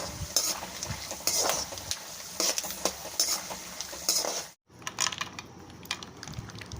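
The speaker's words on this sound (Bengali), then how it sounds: "এবার তেলটা গরম হয়ে এলে বাদামগুলোকে আমি এইভাবে ভেজে নেব" Peanuts fry in hot oil in a kadai, with a steady sizzle broken by frequent scraping and clinking of a spatula against the pan, the stirring pausing briefly to near silence before resuming.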